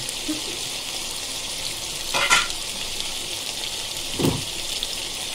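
Whole spices, bay leaves, caraway and cardamom pods, frying in hot ghee and oil for Moradabadi chicken, give a steady soft sizzle with two brief louder bursts as they are stirred.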